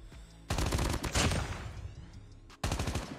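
Rapid automatic gunfire from a weapon in Call of Duty Mobile, loud close bursts breaking off briefly, then resuming in a dense volley.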